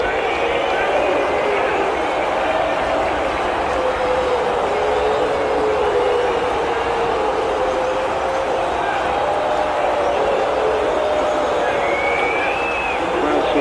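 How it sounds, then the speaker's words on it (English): Home crowd at an under-19 youth football match between Frankfurt and Sporting CP, a constant broad roar of many voices filling the stadium, with commentary talking over it. "That's the home crowd, the vast majority here."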